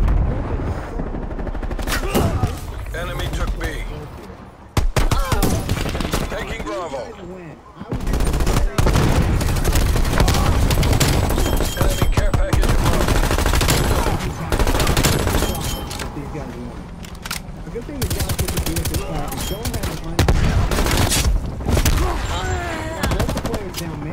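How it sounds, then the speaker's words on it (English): A sentry gun in Call of Duty: Black Ops Cold War sprays rapid bursts of automatic fire alongside other gunshots, loud and dense, with brief pauses between volleys and voices talking over the battle. "that sentry gun is just spam"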